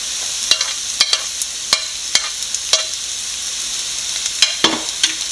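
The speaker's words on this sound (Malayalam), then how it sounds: "എല്ലാം നല്ലപോലെ ഒന്ന് വഴറ്റി കൊടുക്കാം" Onion, ginger, garlic and green chilli sautéing in a pan, a steady close sizzle broken by sharp scraping clicks of a spoon every half second or so, with no talking.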